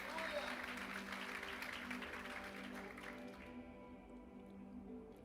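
A church congregation claps together in a steady wash of applause that fades away partway through, leaving a low hum behind.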